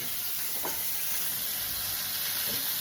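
Egg curry sizzling in a pan, a steady bright hiss with faint stirring scrapes, close and continuous with no talk.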